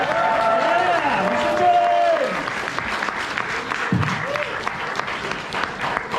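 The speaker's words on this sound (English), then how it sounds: "All right, now go back to clapping for them. Clap for them more." An audience at a convention opening ceremony claps in steady applause, a dense crowd sound that carries on under someone speaking loudly throughout.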